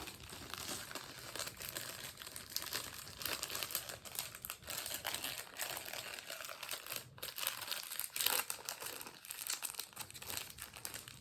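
A cookie package crinkles and rustles as hands try to open it, with continuous close, quiet crackling and scattered sharper crunches over several seconds.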